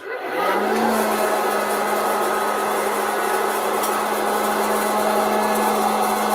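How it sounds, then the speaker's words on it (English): Electric mixer whisking a batch in a bowl, a steady loud motor whine with a constant hum that starts abruptly and runs continuously and close throughout, with no talking. "I'm going to continue to whisk this"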